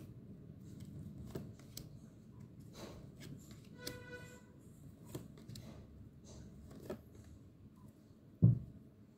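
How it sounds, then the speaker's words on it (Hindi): Tarot cards being shuffled by hand, soft close riffles and flicks in scattered bursts, quiet overall with one sharper tap near the end. "फाइनल शफल बाबा जी"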